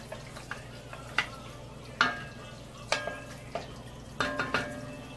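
Butter and olive oil in a pan for onion soup, a soft low sizzle under a series of sharp utensil clinks and scrapes against the pan, fairly faint and close.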